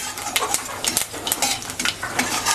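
Panch phoron and bay leaves sizzling in hot oil in a pan for a Bengali chital fish muitha, a steady close crackle with scattered sharper pops and light utensil clinks throughout.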